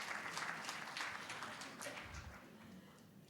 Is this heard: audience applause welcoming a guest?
yes